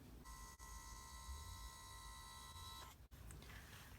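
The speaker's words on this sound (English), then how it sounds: "I'm going to take my Sprocket and I'm going to print a picture." A Sprocket photo printer feeds out a picture with a steady high whirring and tonal motor whine lasting about two and a half seconds, then stops with a brief click.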